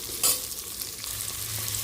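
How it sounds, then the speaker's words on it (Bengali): Onions frying with spices in a pan over medium heat for mango khichuri give a steady sizzle, with a brief louder stir near the start. No one speaks. "মিডিয়াম আঁচে মশলার সঙ্গে পেঁয়াজগুলোকে ভেজে নেব।"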